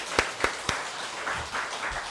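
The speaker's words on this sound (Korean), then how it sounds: "평택에서 오셨는데 박수 한번 하시겠습니다" A church congregation claps for newcomers welcomed during a Sunday service. Three sharp, separate claps are followed by a softer, scattered patter of hands fading under the room noise.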